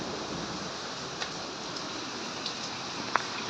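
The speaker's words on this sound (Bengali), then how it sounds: "পুরা ঘরে এদিকে যে পানি পানি ছিটা চলে আসছে" Rain blows in through an open room window during a storm, a steady soft hiss of splashing water with a few faint sharper taps.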